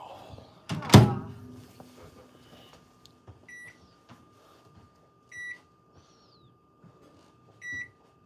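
A microwave oven door thumps shut loudly in a kitchen, followed by soft button presses and several spaced, bright beeps, with quiet clatter in between.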